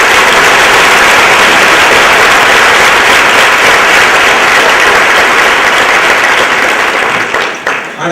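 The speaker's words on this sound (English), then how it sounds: "If we could please have a round of applause" A room of attendees at a women's leadership event applauds Business Journal and Wilma staff, with dense, loud clapping that carries on evenly before thinning out at the end.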